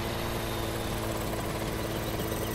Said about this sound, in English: See if we can park this helicopter down by the sauna